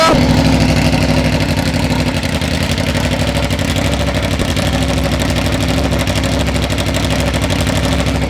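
An Aprilia RSV4 1100 Factory with an SC-Project GP22 exhaust fires up and settles into a loud, steady, rumbling idle that runs throughout, close by, with no talk.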